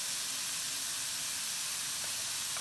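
Ground chuck shaped like a patty sears in a hot pan, giving a steady, loud broadband hiss with no pauses and no voices.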